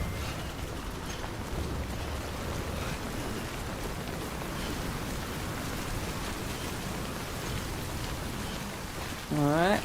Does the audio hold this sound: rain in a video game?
yes